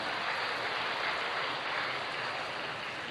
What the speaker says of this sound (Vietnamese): Còn chúng ta cho một tràng pháo tay để gặp với người chị em này.